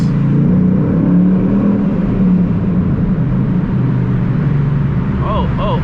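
Deep, rumbling exhaust drone from a Ford Mustang GT fitted with a loud C&L axle-back exhaust, steady and close, with a faint voice briefly audible near the end.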